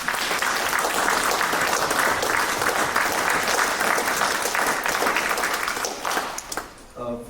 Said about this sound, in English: I just want everyone to give them a round of applause.